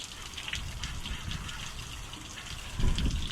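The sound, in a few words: hosing out excavator engine compartment with water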